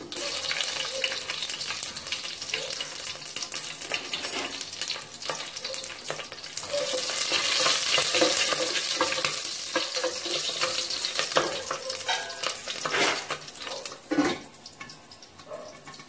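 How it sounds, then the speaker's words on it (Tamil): Onions sauté in a pan with fennel seeds, mustard seeds, slit chilies and curry leaves. A steady sizzle runs throughout with occasional clinks and stirring scrapes, swelling louder midway. "வெங்காயம் கொஞ்சம் நல்லா வதங்கட்டும்"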